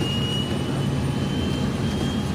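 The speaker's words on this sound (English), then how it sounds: "The sound of the engines, the sound of the air rushing past." Jet airliner engines roar steadily with broadband rushing air during a takeoff roll, a continuous loud wash with a faint high whine, no talk.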